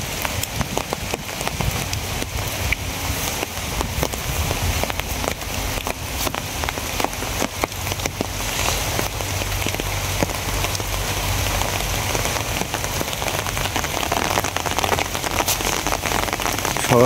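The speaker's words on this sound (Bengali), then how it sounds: "আবার বৃষ্টি শুরু হয়েছে, কয়েকদিন ধরে খালি বৃষ্টি উড়ে যাইতে আছে" Steady rain falls on surfaces throughout, a dense continuous patter of drops at an even level with no voices.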